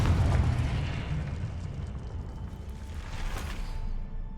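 Confringo blasting spells burst in the Hogwarts Legacy video game, a booming explosion up front followed by a rumbling decay and a second fainter whooshing burst, with no talk.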